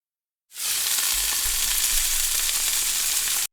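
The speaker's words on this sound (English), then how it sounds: "Sound effect of a sizzling grill" Steady, dense sizzling of food frying on a hot grill, loud and continuous for about three seconds with no voices.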